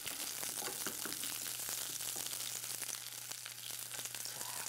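Salted, rinsed cucumber slices stir-frying in a hot pan, a continuous close sizzle with crackling bursts and a low steady hum underneath, without talk.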